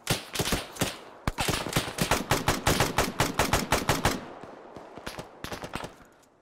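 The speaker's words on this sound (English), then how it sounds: "We're taking fire up that way." Gunfire in the military video game Arma 3: a fast, loud run of sharp automatic shots, tightly spaced for several seconds, then a few scattered bursts afterward.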